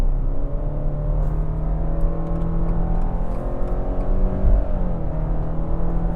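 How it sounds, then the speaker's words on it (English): A 2025 Subaru Outback Limited pulls away hard from a standstill, its engine note rising steadily into a loud, continuous droning whir heard close from inside, with no talking over it. "on the gas. Ooh, good torque off the line."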